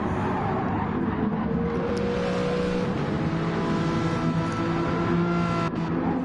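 Several race cars on a PS4 racing game, engines droning and revving steadily in a pack of about five cars, continuous and loud with shifting engine tones throughout.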